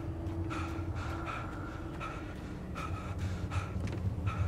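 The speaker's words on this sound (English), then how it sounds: "Why am I hearing heavy breathing and I know it's not me?" Heavy, rhythmic breathing in the Alan Wake video game, a series of ragged gasping breaths over a low droning ambience, fairly faint and steady.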